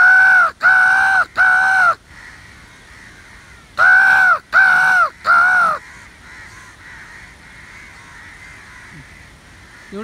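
Two loud groups of three harsh crow caws each arrive close together, then give way to a quiet, faintly noisy stretch.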